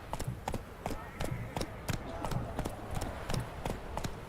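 Hooves of Roach, the horse in Witcher 3: Hearts of Stone, clip-clopping in a steady, even trot, about two crisp strikes per second, moderately close over a soft background.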